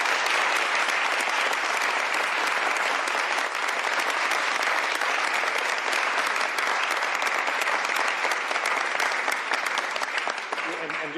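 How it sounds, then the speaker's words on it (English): A large crowd at a bill signing held by Governor Bob Ferguson gives a loud, dense round of applause that holds steady for about eleven seconds, close and enveloping. "One more huge round of applause for everybody here."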